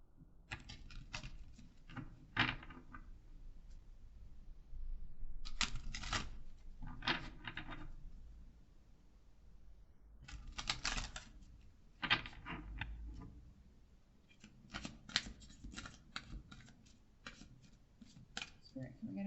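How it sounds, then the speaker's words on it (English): Large oracle cards being shuffled in bursts of riffling and slapping, with pauses between, close by over a faint low hum. "The shuffle is awful with these because they are such big cards"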